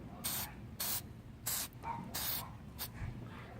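Gasket spray applied to a GY6 scooter engine part, five or six short bursts of aerosol hissing, each roughly a quarter to half second long with brief pauses between, close up and fairly quiet.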